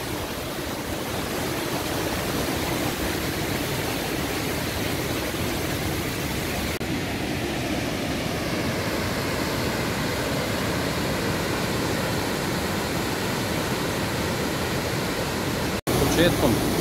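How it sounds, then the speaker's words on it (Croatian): A continuous heavy roar of water from Štrbački buk, a 24-metre waterfall over tufa, rushes nearby and stays steady for the whole stretch, with only a brief dropout near the end. "Iza mene se nalazi Štrbački buk sa preko 24 metra visine"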